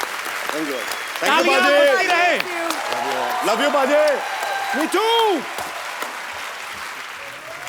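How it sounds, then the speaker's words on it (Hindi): Studio audience applause on a Hindi comedy talk show, clapping rising and swelling in bursts while voices speak and call out over it. "तालियां बजाई रहे।"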